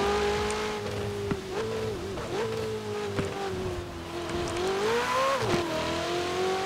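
A stock 2019 Ferrari 488 Pista in Forza Horizon 4 drones steadily at high revs, its pitch dipping and climbing through gear changes and small throttle lifts, close and continuous with no voices.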